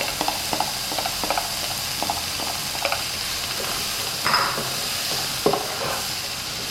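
Chopped carrot and cabbage stirred in a frying pan, with a steady sizzle under repeated scraping stirs and a couple of sharper clanks, close and moderately loud with no talking.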